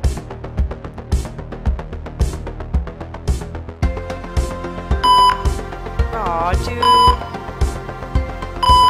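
A hospital machine in the video game AlwaysSometimesMonsters gives electronic beeps over rhythmic game music, with a brief vocal exclamation near the start.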